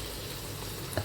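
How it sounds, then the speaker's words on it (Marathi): Green chilies drop into very hot oil and fry with a steady, faint crackling sizzle lasting about a second, with one brief louder pop near the end. "झटकीपट पटकन तेलामध्ये लगेच सोडून घेतली आपण."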